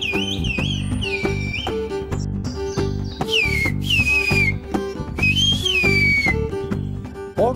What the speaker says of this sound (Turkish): Islık dili.